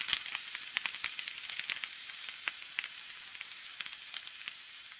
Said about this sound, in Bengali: প্রথমে প্যানে দেবো মাখন